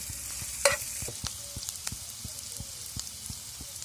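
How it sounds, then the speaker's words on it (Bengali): Pointed gourd pieces fry toward crisp in a pan, a soft continuous sizzle punctuated by a sharp clatter early on and a string of light spatula taps and stirring knocks. "এগুলোকে আমি কড়া করে ভাজবো।"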